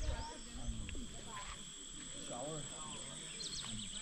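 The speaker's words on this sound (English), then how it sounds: "You can hear all the different songs of the jungle, eh, boy." Dense evening jungle chorus in Moruca, Guyana's North West Region: chirping insects with steady high whines, scattered bird calls and croaking frogs, faint and ambient, with a low voice underneath.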